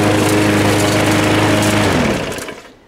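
A brand-new lawn mower engine runs loud and close with a steady droning buzz, then winds down and fades toward silence at the end.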